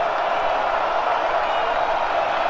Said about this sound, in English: Rossade Stadium crowd making a lot of noise